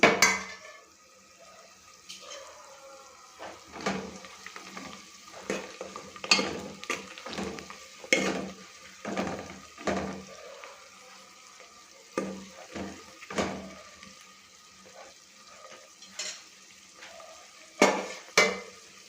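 Onions sizzle gently in a pan while a spoon stirs them in repeated scraping bursts, close up, with quiet frying between the strokes and no talk.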